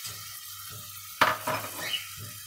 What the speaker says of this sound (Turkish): İçerisine yemeklik doğramış olduğum kuru soğanı ekliyorum.